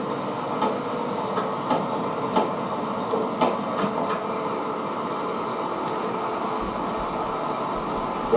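A Big Hank tree spade machine hoisting its blades at an outdoor equipment auction, giving a loud, steady mechanical hum and grinding drone with a few faint knocks, close and continuous.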